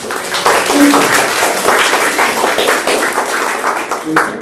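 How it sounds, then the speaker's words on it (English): A congregation at a 2023 Hanamatsuri temple service applauds a new member, a loud, dense stretch of clapping lasting several seconds with voices murmuring underneath. "if you all give her a round of applause"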